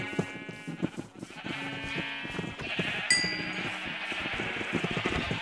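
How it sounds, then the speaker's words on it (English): Sheep bleat repeatedly in the game Minecraft, a dense overlapping stream of game sounds with a bright chime partway through, moderately loud and with no talk. "I've sheared 7 sheep already."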